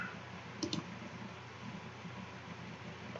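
A pair of quick computer mouse clicks lands close together early on, crisp and near, over a faint steady hiss with no talk.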